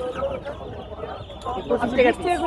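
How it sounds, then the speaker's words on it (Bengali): Layer chicken chicks cheep and chickens cluck softly nearby, mixed with someone talking over the birds. "এখানে লেয়ার মুরগির বাচ্চা দেখতে পাচ্ছেন ভাই"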